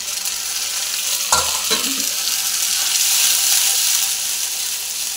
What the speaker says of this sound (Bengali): পেঁয়াজগুলো লাল লাল হয়ে ভাজা হয়ে এসেছে